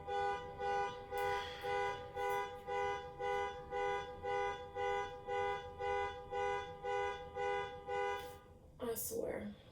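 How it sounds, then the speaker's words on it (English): A car alarm blares in a steady repeating cycle of harmonic tone pulses, about two per second, loud and continuous, then breaks into a rougher burst near the end. "Somebody's always setting off their car alarm or something."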